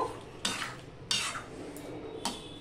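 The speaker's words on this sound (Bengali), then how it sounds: "আর যেহেতু বাদাম দেওয়া গেছে সেজন্য তোমরা একটু ঘন ঘন নাড়বে" Spatula stirs potol curry with fried spices and nuts in a metal pan, giving three or four distinct scraping strokes at an uneven pace, fairly close, with a faint sizzle beneath and no talk.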